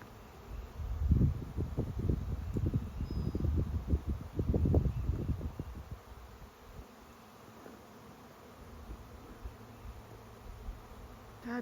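A large honeybee swarm buzzes close around a homemade swarm trap in spring, a dense shifting drone that swells for several seconds and then settles to a softer hum under light wind.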